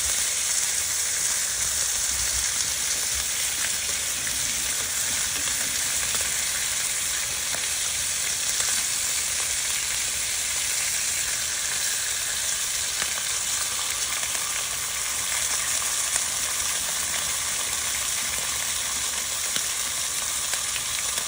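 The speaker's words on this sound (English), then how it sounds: "Everything's sizzling away." Smash burgers sizzle on a Blackstone griddle outdoors on a windy day, a loud, continuous, even frying hiss that holds steady throughout with no talking.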